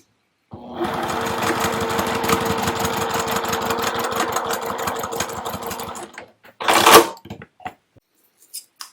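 A sewing machine stitches at a 2.0 stitch length across the corner of a fabric napkin, running steadily for about five seconds before stopping, followed by a brief rustle of fabric handling.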